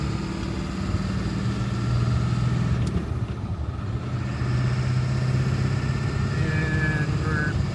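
A diesel engine heard from inside the cab shifts through gears, its low drone dipping and climbing again midway with a brief hiss-like transient. It stays steady and moderately loud, with faint talk at times.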